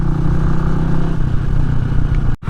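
A Honda CB250RS motorcycle engine runs loud and steady with a low rumbling idle and slight revving throughout, cutting off briefly near the end.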